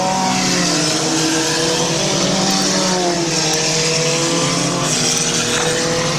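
Race cars at Midvale Speedway roar around the oval together, a loud, continuous layered engine drone with overlapping pitches rising and falling as the pack passes, steady throughout.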